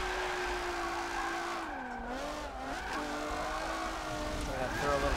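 A car drifts sideways in Forza 7, driven on a Logitech G920 wheel without a handbrake, giving a steady engine drone with tire skid noise beneath a talking voice.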